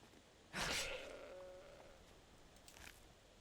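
A single goat bleat in the video game Skyrim rises sharply and trails off, followed by a fainter second bleat, set against a quiet background hiss.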